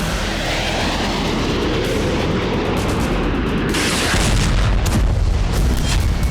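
Explosions from attacks across Ukraine, from Kharkiv to Odesa, in war news footage: deep, loud booms and rumbling blasts rolling continuously, with a heavier surge of noise partway through.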